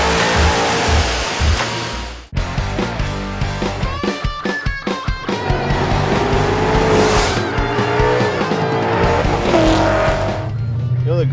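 A Vortech-supercharged 2011 Mustang GT accelerates hard with a loud engine roar, tires squealing through a skid and gear changes, rising whine close by, with a voice talking over it.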